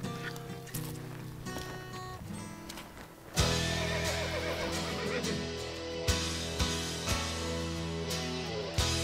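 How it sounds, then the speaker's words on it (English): Horses neigh loudly and repeatedly in a valley setting, with a sharp whinny near the start and clip-clopping hooves and other whinnies following close by. "we can saddle some horses and head up there"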